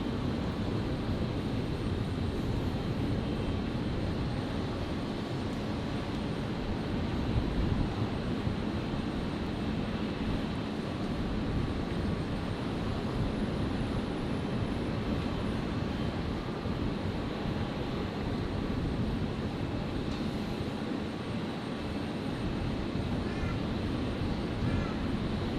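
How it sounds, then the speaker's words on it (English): Alliance Fokker 100 jet at Brisbane airport, a steady broad engine roar from a moderate distance that holds evenly throughout, with faint talk in the background. "The Fokker 100 on screen here, the Alliance Fokker 100, operating Virgin 619 today"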